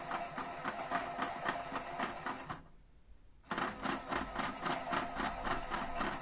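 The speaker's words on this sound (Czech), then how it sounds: "Pračka pere." A washing machine running its wash cycle churns with steady, rhythmic mechanical thumping and whirring, briefly going quiet for about a second before the loud, regular drum motion resumes.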